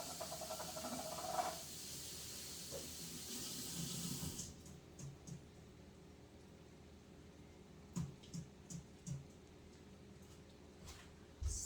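A kitchen tap runs into a sink as food is rinsed under the stream, hissing steadily for about four seconds before shutting off. Faint clinks and small knocks follow in the quiet.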